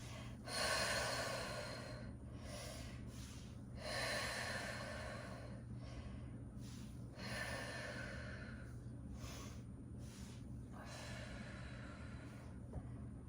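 Slow, deep breaths through the nose and mouth repeat in a steady rhythm during a knee-strengthening workout, each inhale followed by a long audible exhale during hamstring curls, close and fairly quiet with no talking.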